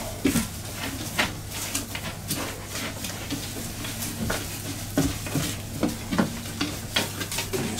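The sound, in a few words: mixing dry tarantula enclosure substrate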